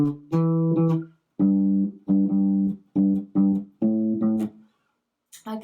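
Bass guitar playing a bass line, a short phrase of plucked low notes in a syncopated rhythm with brief gaps between groups, clear and close with no other instruments.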